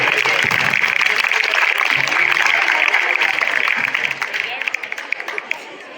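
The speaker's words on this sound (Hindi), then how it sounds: "एक बार तालियां विधायक जी के लिए" A crowd at a school annual function applauds a legislator coming on stage, a dense, loud wash of clapping with chatter that thins out toward the end into a few scattered, distinct claps.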